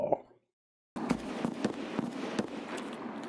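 An SVD sniper rifle fires in a video game firefight. After a short pause come a loud close report and then a quick run of sharp cracks, with several shots about a third of a second apart.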